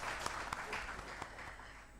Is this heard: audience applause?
yes